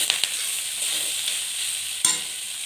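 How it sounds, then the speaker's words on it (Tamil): A spoon stirs a sweet coconut milk mixture in a frying pan, giving a soft steady sizzle and scraping hiss with a couple of sharper taps against the pan, and no talk. "இதை நல்லா மிக்ஸ் பண்ணிடலாம்."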